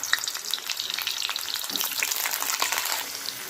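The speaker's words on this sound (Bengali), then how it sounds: "আলুগুলো ভাজা হচ্ছে" Potatoes fry in mustard oil in a wok, a loud, dense crackling sizzle that continues without a break, with occasional stirring noises close by and no voices.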